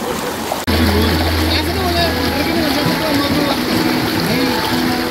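Steady rushing river water at Rishikesh fills the scene, with splashes and distant voices of people playing in the current.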